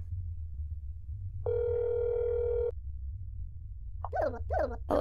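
A rotary phone in the video game That's Not My Neighbor gives a steady, flat dial tone lasting just over a second over a low background hum, followed by a few quick chirping sounds.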